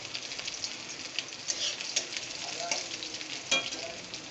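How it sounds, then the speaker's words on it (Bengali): Crushed garlic and dried red chilli fry in hot oil, a steady close sizzle with crackling pops and the scrape of stirring, sharper spurts around the middle and near the end, no talking. "রসুনটাও আমি একটু লাল লাল করে ভেজে নেব।"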